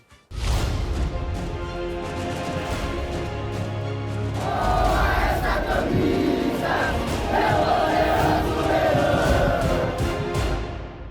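Império Azulino football supporters gathered in the Guamá neighborhood of Belém raise a loud, sustained crowd roar with chanting voices, swelling stronger in the second half and continuing without pause.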